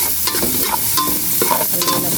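Garlic and ginger frying in oil in a pan, a steady close sizzle with a few brief stirring scrapes, no voices.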